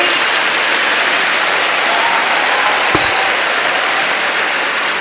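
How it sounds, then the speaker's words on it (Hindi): An audience of schoolchildren claps loudly and steadily, a dense wash of applause that holds at full strength for the whole stretch without letting up. "आप लोगों को खुद के लिए एक बार बहुत ज़ोरदार तालियां बजानी चाहिए खुद के लिए"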